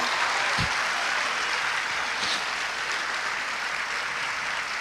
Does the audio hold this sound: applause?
yes